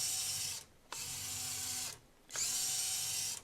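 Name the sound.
Traxxas TRX4M RC crawler with portal axles driving at low speed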